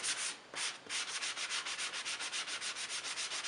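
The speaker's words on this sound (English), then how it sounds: "The palm sander is pretty aggressive, you know." A palm sander grinds Bondo filler on a cabinet door, giving fast, steady, rhythmic scratchy strokes up close with a brief dip near the start and no talking.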